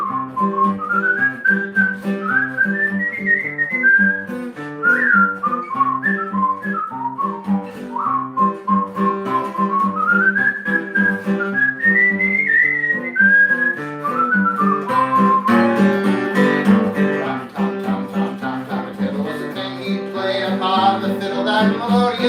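A person whistles a flowing melody over a musical accompaniment, with the pitched line rising and falling steadily for about twenty seconds and growing fuller toward the end.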